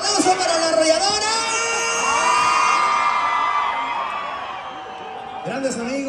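A concert crowd cheers and whoops, a loud, sustained mass of shouting voices over band tones that swells and then eases, picking up again near the end.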